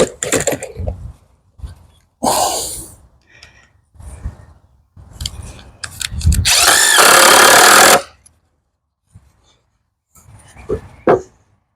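A power drill drives screws into a wooden potato box in short separate whirring bursts, the longest running about a second, with pauses and handling knocks between them; nobody speaks.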